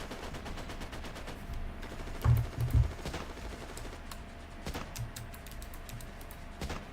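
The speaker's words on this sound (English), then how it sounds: "What is shooting out here?" Distant, scattered gunfire in a video game, faint bursts and single pops behind near clicking of a computer keyboard and mouse, no talking.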